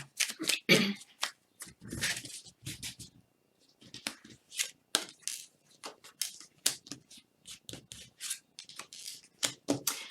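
Tarot cards being handled and laid out on a table, a string of quick crisp flicks, slaps and slides in irregular bursts between short pauses, close and fairly loud, with no talking.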